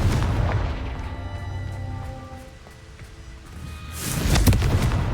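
Confringo fire spell blasts in the video game Hogwarts Legacy, heavy booming bursts opening and closing the moment with a rumbling low tail between, loud and close over game ambience.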